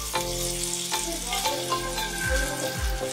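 Spices for a Bengali koi fish curry sizzle steadily in hot oil as a splash of water is added, giving continuous frying hiss with scraping stirs and a couple of low clunks, close and alone without talk.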